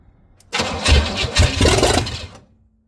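A 1968 Buick Wildcat engine cranks and catches after sitting unused for 44 years, roaring loud and rough for about two seconds before cutting out to near silence.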